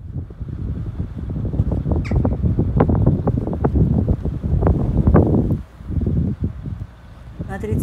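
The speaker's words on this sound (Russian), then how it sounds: "Не стала специально убирать, чтобы было слышно, какой ветер." Strong gusting storm wind in Estonia buffets the microphone in loud, rumbling waves, briefly easing for a moment before surging again.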